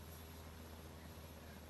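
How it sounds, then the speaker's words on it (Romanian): Helicopter-like aircraft in a video game, a steady low rotor and engine drone holding continuously at close range with no pauses. "ăsta e un fel de elicopter"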